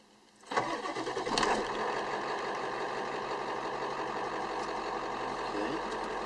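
A 1997 Ford F-250 pickup with a 7.3L Powerstroke turbo diesel cranks briefly and fires up, then settles into a steady, loud, close diesel idle that runs on alone.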